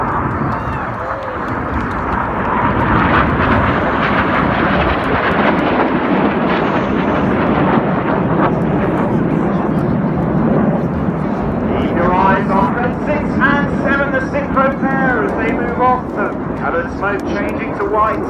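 Red Arrows display jet roars past at an airshow, a loud sustained rushing whoosh that swells and holds, with an announcer talking over it throughout.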